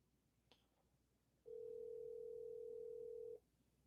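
A steady telephone ringback tone sounds once for about two seconds during an outgoing call, clear and alone against faint background noise.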